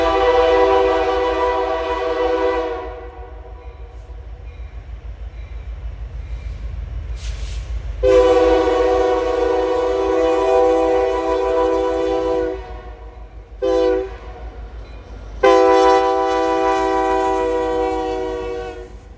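A Canadian National intermodal freight train rumbles steadily up a 2% grade at Steelton Hill, its horn blaring loudly in three long blasts over the constant engine drone and wheel noise.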